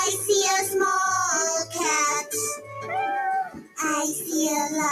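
A small cat meows repeatedly, several clear close mewing calls in quick succession with brief gaps between them, loud and alone.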